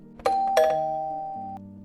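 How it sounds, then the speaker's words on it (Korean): Two-tone ding-dong doorbell rings once, loud and close, with clear chime tones that ring on and fade out, no voices. "그때 마침 누군가가 초인종을 누르더군요"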